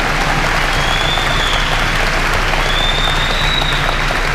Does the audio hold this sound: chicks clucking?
no